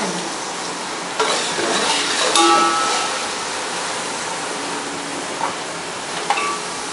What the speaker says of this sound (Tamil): பொன்னிறமாக வந்த அப்புறம் அரைச்ச மிளகா விழுத உள்ளக்க போட்டு நல்லா கிண்டுங்க